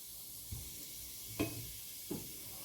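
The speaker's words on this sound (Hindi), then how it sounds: "ये ज़ीरा भी कड़क गया है।" Cumin seeds fry in hot oil with a faint, steady sizzle, joined by a few soft crackles and clinks from stirring, quiet and close.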